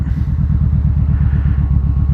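A Kawasaki Vulcan Voyager motorcycle with aftermarket Sharkroad mufflers idles close by with a deep, loping low rumble and regular rhythmic pulses, steady and loud, no voices.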